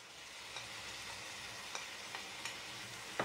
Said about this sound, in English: Now I'm going to add my shrimp